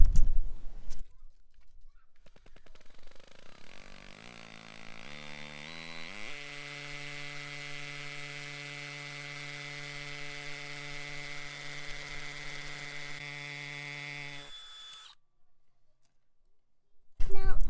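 A DeWalt DCD996 hammer drill boring holes into concrete, a steady high-pitched mechanical whine that climbs as the motor spins up, then holds a loud sustained drone for several seconds before stopping abruptly.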